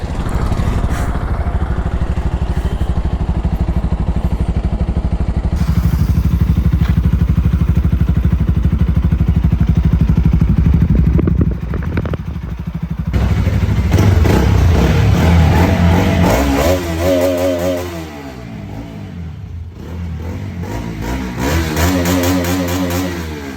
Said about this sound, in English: I will start the engine so that you can hear the exhaust sound